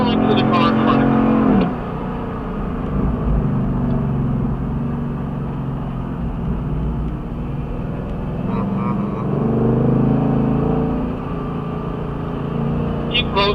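Ford Mustang cars drive an orientation lap at a Ford Performance racing school track, their engines rumbling loudly and steadily from close by while an instructor talks over radio.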